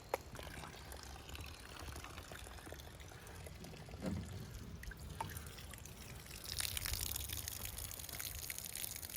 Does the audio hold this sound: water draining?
yes